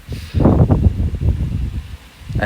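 Strong southwest wind gusting in Ille-et-Vilaine, buffeting the microphone in heavy low rumbling bursts that swell and fade repeatedly, loud and close, with a brief lull before the next gust rises.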